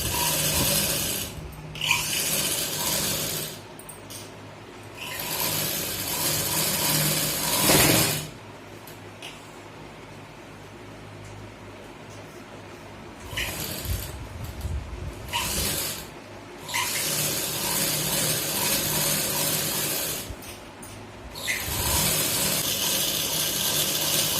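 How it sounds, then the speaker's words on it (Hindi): A sewing machine stitches a padded blouse, its motor whirring in several long bursts separated by short quiet pauses, close and fairly loud with no voices. "अब मैं इसकी पक्की सिलाई से फिटिंग लगाती हूँ।"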